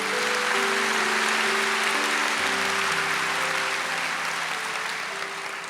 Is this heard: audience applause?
yes